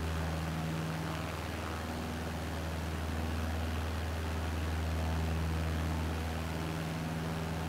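A steady airplane engine drone in a video game, an even propeller hum with a low, unbroken tone that holds at the same level from start to finish.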